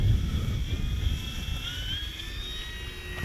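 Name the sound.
E-flite P-51D Mustang RC plane taking off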